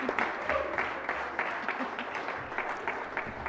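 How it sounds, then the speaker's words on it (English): A state Senate chamber breaks into a round of applause for the Secretary of the Senate's office, a steady wash of many hands clapping under a murmuring room. "if we could give a round of applause to our wonderful Secretary of the Senate's office"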